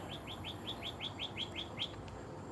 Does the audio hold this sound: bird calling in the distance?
yes